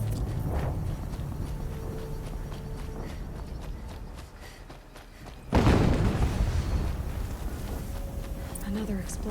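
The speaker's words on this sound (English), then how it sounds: "Another explosion." A deep, booming explosion erupts suddenly midway through a Horizon Zero Dawn Remastered game scene, following a stretch of rumbling ambience and faint footfalls, with a voice speaking over the action.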